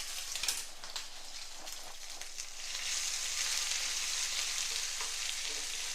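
A spoonful of ginger, garlic and green chili paste sautés with curry leaves in hot tempering oil for khichdi, a steady close sizzle that swells louder midway, with a few light stirring scrapes early on.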